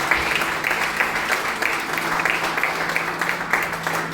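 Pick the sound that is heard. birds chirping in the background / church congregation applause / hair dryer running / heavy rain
church congregation applause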